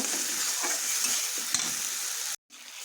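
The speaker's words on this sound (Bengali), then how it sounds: "এবার ভালো করে মশলাটা ভেজে নেব" Bengali-style spice paste (masala) with salt, turmeric and a little sugar sizzles steadily in a pan for egg curry, a continuous close frying hiss with a few stirring scrapes, briefly cut off near the end.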